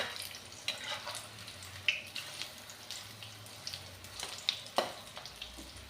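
Soya chunk kofte frying in oil over medium heat while being stirred, giving a soft steady sizzle broken by occasional scraping and clinking from the spoon, with no talking.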